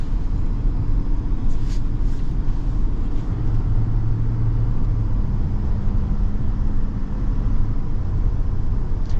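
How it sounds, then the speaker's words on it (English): A 2026 GMC Yukon AT4 XL diesel engine drones steadily from inside the cabin while driving, a constant low rumble blended with road noise and no talking. "Man, this diesel is smooth. Tons of torque."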